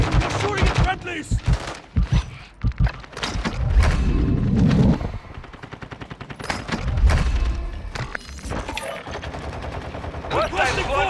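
Gunfire in Call of Duty: Modern Warfare II, with sharp rifle bursts and rapid shots in clusters over busy game sounds and voices talking, loud and close, with brief pauses between volleys.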